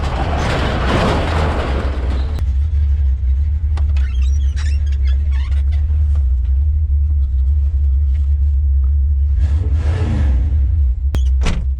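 A 1973 Dodge Dart four-door sedan cruising along, its engine a steady low rumble from inside the cabin with road noise and passing whooshes, loud and continuous throughout.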